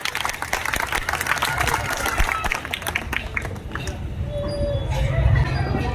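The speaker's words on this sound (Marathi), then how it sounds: "जरा जोरदार टाळ्या झाल्या पाहिजे" An audience at a political speech breaks into loud, dense clapping and crowd noise that gradually thins. Voices and chatter mix in beneath the applause.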